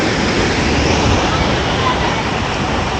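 Strong rushing water pours through a river used as an irrigation channel, roaring like a small waterfall after rain; a steady, loud, broadband wash fills the clip without a break.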